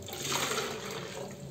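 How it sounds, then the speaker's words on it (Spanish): Water poured into a cut plastic bottle for a garden mosquito trap, a steady close gush and splash of liquid filling the container, continuous throughout with no talk. "vamos a llenar esta parte de agua"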